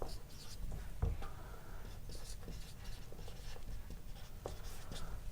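Pen scratching steadily on paper while accounting entries for a partnership capital account are written out, a close, continuous scribbling with small taps, with no talk.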